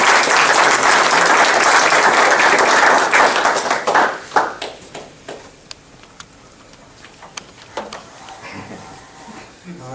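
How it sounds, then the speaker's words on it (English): An audience at a men's health summit applauds to welcome a speaker, loud dense clapping for about four seconds that thins into scattered claps and fades, with faint voices underneath. "can I please get you to a round of applause to welcome"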